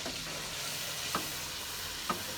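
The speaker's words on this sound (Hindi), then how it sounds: "बीच में टमाटर, मिर्चें और हल्दी, उसके बाद ऑयल और नीचे आग।" Tomatoes, chillies, turmeric and oil sizzle in a cooker over a flame: a steady, close frying hiss with a couple of brief soft clicks.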